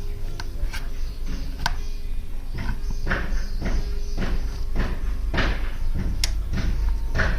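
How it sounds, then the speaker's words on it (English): Adjustment dial on the rear monoshock of a TRK 502X motorcycle, clicking as it turns: a string of sharp, close ticks at an irregular pace over a low steady background hum. "Whenever you hear that tick sound, that means the dial is moving."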